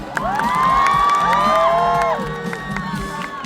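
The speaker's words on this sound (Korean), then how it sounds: "박수 부탁드립니다" Audience at an award ceremony for the Proud Chung-Ang Alumni Award cheers and shouts loudly as flowers are presented, a dense crowd roar with raised voices that holds steady, then eases slightly toward the end.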